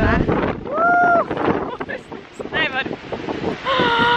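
Wind gusts buffet the microphone in heavy rumbling bursts while a person talks over it outdoors in autumn in Kurzeme, Latvia.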